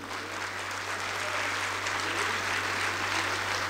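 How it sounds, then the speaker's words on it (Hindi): Audience applause at a poetry mushaira event in Hyderabad, a continuous wash of clapping from a large crowd, steady and moderately loud over a low constant hum. "इसरो के लिए जोरदार तालियां बजाइए।"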